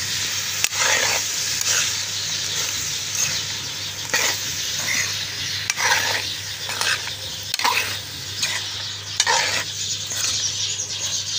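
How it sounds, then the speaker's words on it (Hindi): Dhaba-style tinda curry gets stirred in a pan, a low sizzle broken by repeated scraping and clinking strokes of a spoon against the metal, close and unvoiced. "इसको अब अच्छे से हम मिक्स करेंगे"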